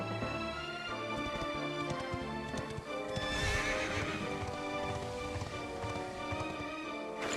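A horse in Dragon Quest 11 neighs and gallops with steady clip-clop hoofbeats, game music and effects layered around it, fairly quiet overall.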